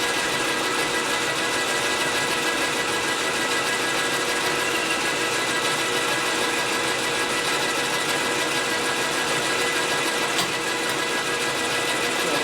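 Continuous bright, whining machining noise from a lathe cutting parts during a 1946 Harley knucklehead 84ci stroker motor rebuild, loud and unbroken with a steady high-pitched hiss, no talking.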